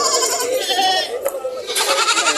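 Goats bleating at a goat market in Padre Garcia, Batangas: several close, loud wavering bleats overlap almost continuously, with a short gap near the middle.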